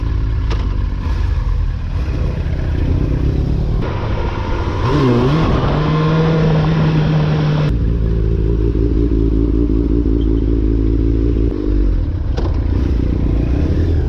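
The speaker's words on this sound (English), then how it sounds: "Somebody down the block with a dirt bike." A dirt bike engine down the block, heard as a buzzing, revving drone with pitch rising and falling as it accelerates, loud and steady throughout with some clatter and no talking.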